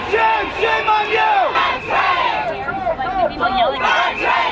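Outside a fashion show, a crowd of fur protesters shouts and chants loudly and without letup, rising and falling voices merging into one rough roar close by.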